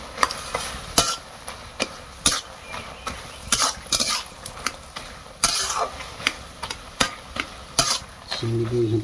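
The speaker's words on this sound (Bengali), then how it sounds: "দেখতে পাচ্ছেন চিংড়ি দিয়ে ঘেঁটে দিচ্ছে।" Fried prawns are stirred into a cooking pot in a Bengali village kitchen. A utensil scrapes and clinks against the metal pot in repeated sharp strokes over a faint sizzle, close by.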